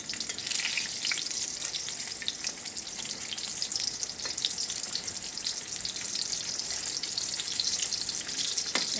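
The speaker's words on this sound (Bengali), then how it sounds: "আমাদের বাকি কাঁকরোলগুলো ভাজা হয়ে গিয়েছে" Spiny gourd (kakrol) slices fry in a pan with a steady, dense hiss and sizzle that holds close and even throughout, with occasional faint pops and crackles.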